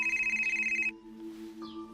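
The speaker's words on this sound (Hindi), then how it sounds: "ये तुम्हारा फोन बज रहा है," A phone rings with a bright, pulsing electronic ringtone that repeats in quick beeps for about a second. Fainter tonal chirps follow, close and clear, with no talk over them.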